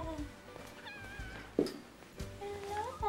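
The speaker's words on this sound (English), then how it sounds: "A little Persian cat." A small Persian cat meows in a movie scene, a short moderately loud cry over faint background voices and room sound.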